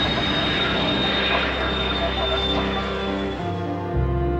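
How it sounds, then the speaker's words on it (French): A fixed-wing airliner aborts its landing approach and climbs in a go-around, its jet engines roaring loudly and continuously as the pitch slowly shifts and the thrust swells. "L'avion va alors quitter sa trajectoire d'approche, reprendre de l'altitude pour venir se replacer dans l'axe de la piste."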